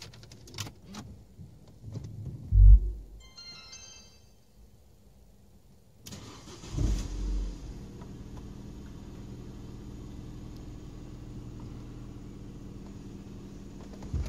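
A few clicks and a clunk, then a Renault Laguna II engine starts and settles into a steady low idle with a faint radiator cooling fan whir that continues to the end.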